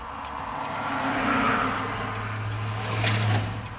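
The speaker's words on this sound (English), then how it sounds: "Couple cars going by." Cars pass by on a road during a roadside pit stop in Michigan, a steady engine and tire rumble with a low drone that swells near the end.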